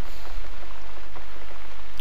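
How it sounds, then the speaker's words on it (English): Steady rain pours across a surface in the horror adventure game The Cat Lady, a dense continuous hiss with scattered droplet taps, close and even throughout. "Looks like we got the rain back."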